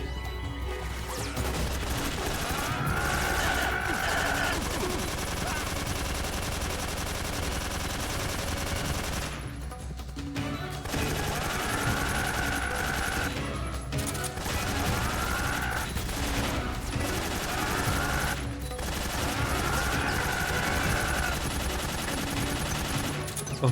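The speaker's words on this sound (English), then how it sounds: "American light machine gun." An American light machine gun in Metal Gear Solid 3 firing in long sustained bursts, dense, loud and continuous, broken by brief pauses and crashing impacts over a heavy, busy game background.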